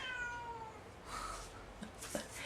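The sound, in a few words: cat meowing behind a door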